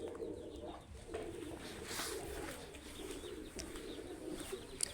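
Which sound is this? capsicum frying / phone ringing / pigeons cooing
pigeons cooing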